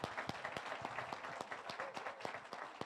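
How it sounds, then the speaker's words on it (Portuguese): Audience applause for a lecturer after a talk on special retirement, a steady wash of many hands with some sharper individual claps standing out, fairly quiet and distant, with no talking over it. "Gostaria de uma salva de palmas"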